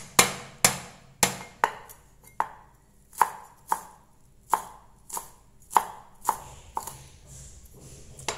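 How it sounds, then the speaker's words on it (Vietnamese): A knife minces shallots sharply on a cutting board, about a dozen distinct, crisp strikes at a steady, unhurried pace with no talking. "hành các bạn sẽ băm ra cho mình hành thơm"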